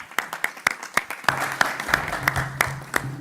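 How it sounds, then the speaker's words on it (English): Scattered applause from a small audience at a state Racial Equity Commission meeting: a handful of separate, fairly close claps at an uneven pace, thickening slightly toward the end over a low steady hum. "Can we please give him a round of applause before he shares?"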